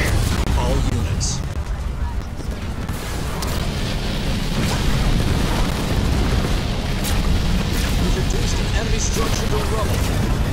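A structure blown apart in the sci-fi strategy game Halo Wars 2, a dense rumbling blast and ongoing booms mixed with gunfire and battle noise, with game voices talking over it throughout.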